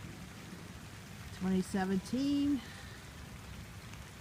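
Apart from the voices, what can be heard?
rain falling during a neighborhood flood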